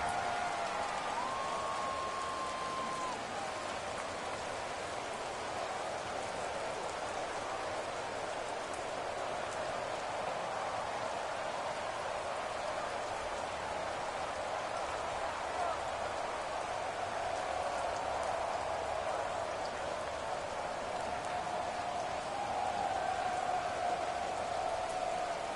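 Steady, dense rain hiss from an American football video game on PS4, a continuous wash of falling rain under the game broadcast throughout.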